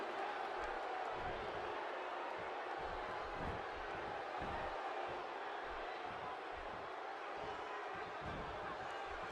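Wrestling arena crowd in the video game WWE 2K16 during a Money in the Bank championship match, a steady, dense roar of cheering that fills the whole stretch with occasional thumps underneath.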